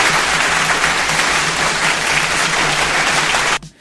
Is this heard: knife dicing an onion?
no